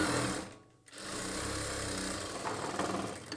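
A sewing machine stitches a churidar bottom, a close, fast mechanical whir with a brief pause near the start before the run resumes steadily.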